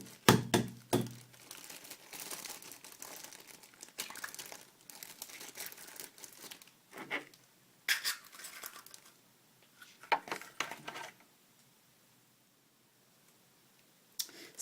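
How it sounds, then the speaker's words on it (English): Eggs cracked on a mug and slipped into a plastic bag for hotel kettle cooking, with repeated bag crinkling and rustling, a sharp crack and knocks, then a quiet stretch before a final rustle. "You can crack the egg on the mug and then put the egg in the bag"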